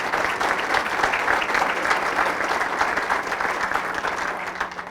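Sustained applause from an audience at a university conversation event honoring a long-serving Texas public university president, dense steady clapping throughout at even loudness.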